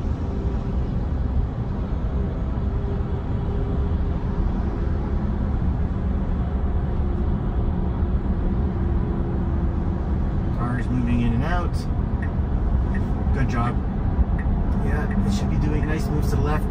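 A Tesla drives on a busy multi-lane North American highway, its steady road and tire rumble filling the cabin, with traffic noise throughout and brief higher clicks and squeaks near the end.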